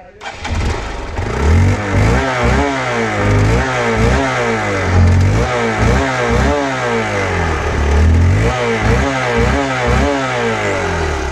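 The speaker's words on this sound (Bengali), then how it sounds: "দেখতেই পারলেন বাইকটির সাউন্ড একদমই স্মুথ।" Hero Hunk 150cc motorcycle idling up close, a loud steady chugging engine with an even repeating pulse throughout, in good running condition, with no talk over it.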